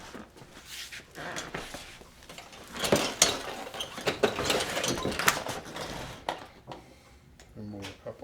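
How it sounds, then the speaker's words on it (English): Upholstery tacks are pried out of a Womb chair frame in a workshop, giving a handful of close, sharp metallic clicks and scraping pulls between quieter pauses, with a brief low voice near the end. "Remove a couple of tacks."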